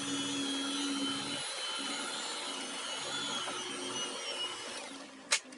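A stand mixer churns cookie dough with a steady motor whine and a grinding, laboring drone, loud and continuous, ending in a sharp clack near the end.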